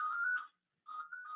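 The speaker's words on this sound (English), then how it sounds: "That's the house phone." A house telephone rings with an electronic warbling tone, two bursts separated by a short gap, moderately loud and close, with no one talking.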